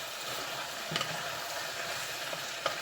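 Chopped onions tossed and stirred in a hot pan while cooking okra, rice and smoked pork chops, giving a steady, fairly quiet sizzle with a couple of faint scraping clinks from the stirring.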